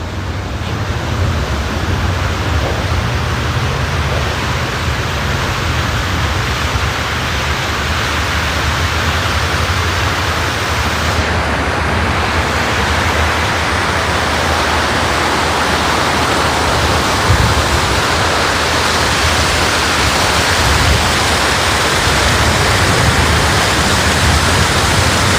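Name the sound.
water fountain at National Art Gallery East Building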